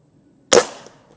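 A single sharp shot from an Umarex Komplete NCR .22 air rifle fired in a backyard, a crisp close crack with a short fading tail after near silence.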